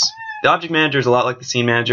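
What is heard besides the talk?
cats meowing in the background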